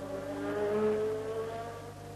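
Formula 1 cars lapping Monza at the 1984 Italian Grand Prix, with Alboreto's red Ferrari among them, give a steady, sustained engine drone that swells slightly mid-way, heard from a distance with no one speaking.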